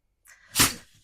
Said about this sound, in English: Bless you, Chomp.